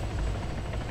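A helicopter comes in to land, its rotor wash making a loud, dense, low thumping roar that stays close and constant.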